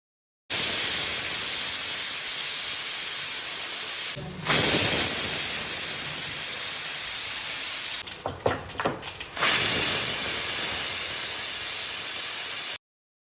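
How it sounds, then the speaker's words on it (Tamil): A pressure cooker on a stove lets out a loud, steady hiss of escaping steam, broken by two short pauses with sputtering bursts before the hiss returns at full force and then cuts off. "குக்கரில் மூடி போட்டு 3 விசில் வர்ற அளவுக்கும் ஃபுல் ஸ்பீடில் வச்சு கொதிக்க விட்டுறலாம்"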